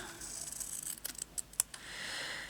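Scissors snip through fabric close by in a quick series of crisp cuts, faint against a soft background hiss.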